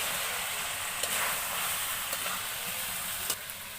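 Chicken sautéing in a pan gives a steady, dense sizzle that holds evenly throughout, with a few faint clicks of stirring on top.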